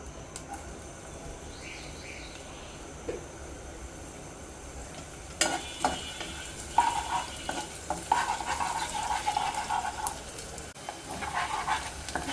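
Chopped onions dropped into hot oil for an egg korma, beginning as a quiet background hiss and then breaking into louder crackling sizzles with scrapes of stirring, with a faint bird chirp or distant bark early on.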